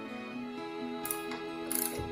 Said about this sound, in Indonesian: dia ada ratchetnya, jadi kita lebih gampang untuk mengencangkan